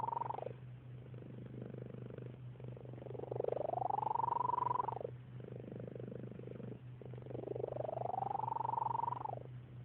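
A small cat purrs close up, a steady rumbling purr broken by two long rising chirp-like trills a few seconds apart, quiet and alone with no voices.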